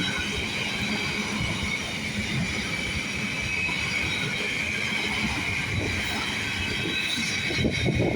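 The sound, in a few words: Class 755 train passing through Stowmarket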